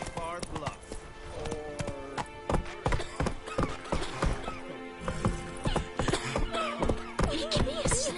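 Hooves of Roach, a horse in the video game Witcher 3, clip-clop in a steady galloping rhythm, loud and close, with a whinny and game voices talking over the hoofbeats.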